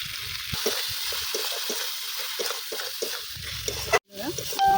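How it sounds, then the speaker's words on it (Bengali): Tomato, turmeric and cumin spice paste frying in oil for a pointed gourd fritter curry, a steady sizzle broken by stirring scrapes, with a brief dropout near the end. "মশলাটা কষানো হয়ে গেছে, দেখুন মশলার থেকে তেল ছেড়ে দিয়েছে"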